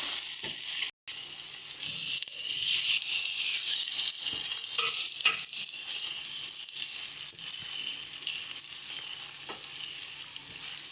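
Katla fish roe fries in a pan of spice paste, giving a continuous close sizzle broken by soft scraping stirs, with one short gap near the start and no speech.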